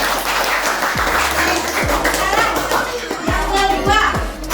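Schoolchildren in a classroom clap together in a busy, continuous burst, with young voices chattering underneath and a few low thumps along the way.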